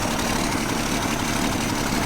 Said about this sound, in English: little 6-cylinder over here back in 1966